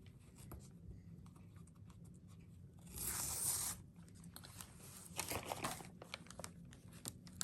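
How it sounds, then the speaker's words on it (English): Tape is peeled off a piece of khaki tie-dye fleece during a Christmas gnome craft, giving a faint close tearing and crinkling rustle in short bursts, alone without talk. "If I can get the tape off here."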